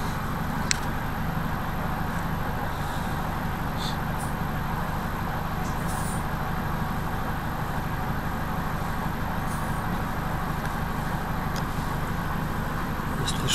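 Cabin of a city route 90 minibus in Saint Petersburg, a steady engine and road rumble throughout with a few faint clicks and rattles, no speech.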